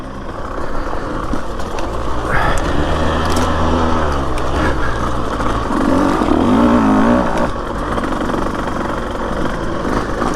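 Husqvarna TE150 dirt bike climbing uphill in third gear on a desert single track in Arizona, its engine droning loud and close, pitch rising and falling as the revs change, with no talk over it.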